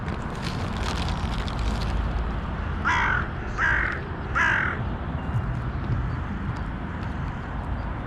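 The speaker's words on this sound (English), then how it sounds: "No, it's a bird close to Charlie" A crow near a feeding spot gives three loud, harsh caws in a steady series against a constant outdoor background hiss.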